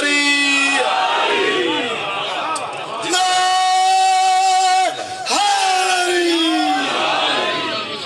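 A large crowd at a religious gathering in Dina, Jhelum roars a slogan response in unison, loud sustained shouting in several surging waves with a brief dip midway.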